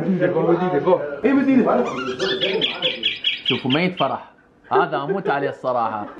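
A bulbul bird in Mosul sings a quick run of bright, repeated chirps in the middle of the clip. Someone talks loudly over most of it, and the song is partly buried under his voice.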